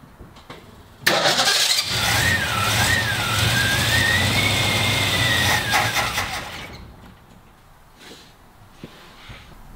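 A 1957 Ford Ranchero with a weak fuel flow from its carburettor jets cranks and fires, its engine running loud and rough for several seconds with rising and wavering revs before shutting off, leaving faint background clatter.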